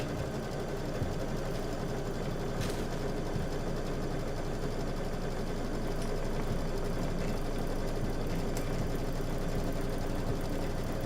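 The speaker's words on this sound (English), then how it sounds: "go ahead and hit start, and now it's going to do the tack down stitch" An embroidery machine runs a tack down stitch on fabric for a Kimberbell table topper, giving a steady, dense mechanical whir with rapid needle rhythm that holds for the whole stretch, close and even with no talk.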